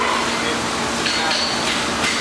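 At a horseshoeing contest, farriers hammer horseshoes, with a few sharp metallic strikes ringing out over a dense, hissy background of workshop noise and murmured talk.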